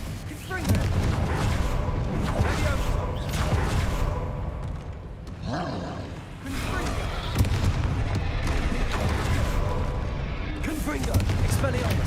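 Spells such as Confringo, Expelliarmus and Bombarda cast in a video game make a rapid string of booming, crackling blasts and bursts, loud and close, repeating throughout with hardly a pause.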